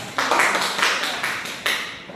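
Short burst of applause from a classroom group, with several quick clap onsets at roughly half-second intervals, moderately loud and close, over a brief stretch of about two seconds.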